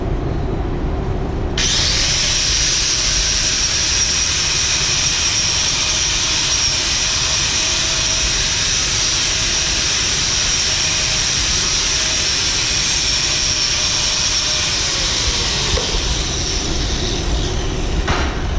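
A welded joint is laid with an arc welder, producing a loud, continuous hissing crackle that starts abruptly and holds steady and close for the whole stretch, with no speech.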